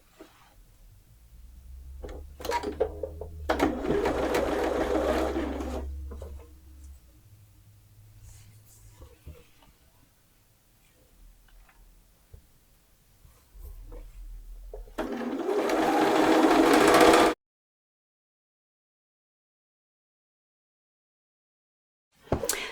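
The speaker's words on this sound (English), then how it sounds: "sewing the shoulder seams at a 3/8 inch seam allowance" A sewing machine stitches the shoulder seams of a garment in two whirring runs, one long early and one shorter later, close by with quiet handling between, followed by silence.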